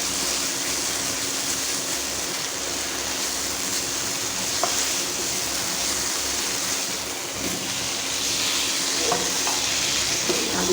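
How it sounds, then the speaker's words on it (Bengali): Fried potatoes being sautéed in masala and yogurt for a Bengali rui fish kalia, a dense, continuous hiss of frying that holds steady throughout, close by, with only a few faint scrapes and no talk. "আলুটা দিয়ে একটু ভালো করে কষিয়ে নেব"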